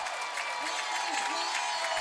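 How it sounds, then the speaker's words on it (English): Stadium crowd roaring and applauding after a soccer goal, a broad sustained cheer heard under a commentator's voice. "And the crowd up on their feet in the 76th minute."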